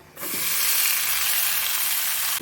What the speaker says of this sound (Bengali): এরপরে মাটনটা দিয়ে দেবো